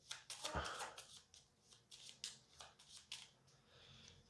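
Cards from the This War of Mine board game being shuffled by hand, a series of quick papery riffles and flicks in short bursts, close and fairly quiet, with no talking.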